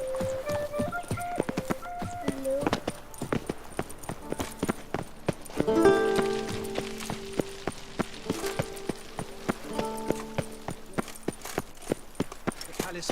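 Horse hooves clip-clop steadily in The Witcher 3, a rhythmic run of hoofbeats under game music and snatches of character speech.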